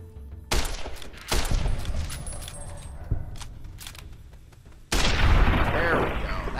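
Gunfire from a shootout in Fallout: New Vegas: a few sharp, loud shots with a dense burst of impacts near the end, over a busy game background.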